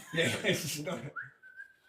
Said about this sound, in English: I'll just whistle